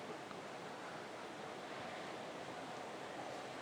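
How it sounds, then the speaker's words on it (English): Ocean surf rolls in at a bodyboarding contest at Arica, Chile, a faint, steady wash of breaking waves mixed with wind noise, distant and unbroken, with no talking. "you see all these waves coming in"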